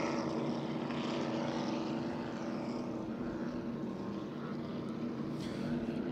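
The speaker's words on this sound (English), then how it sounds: "Many boats now limping around this New York race course on the Hudson River" Offshore racing powerboats roar along a race course on the Hudson River in New York during the Super Boat Grand Prix, a steady loud engine drone with no talking.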